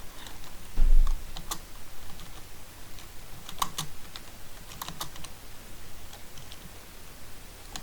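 Someone types a message on a PC computer keyboard, giving close, steady clicking keystrokes with scattered louder taps and a brief thump near the start, with no voices.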